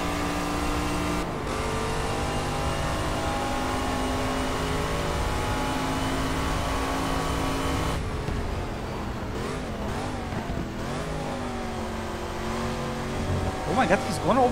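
De Tomaso Pantera race car engine in GT Legends, a loud steady high drone at speed that shifts pitch through gear changes and revs toward the end, with someone talking over it.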